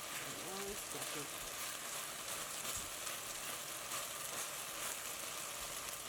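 Beef stir-frying in a wok, a steady close sizzle and crackle that runs throughout, with a few faint scrapes near the start.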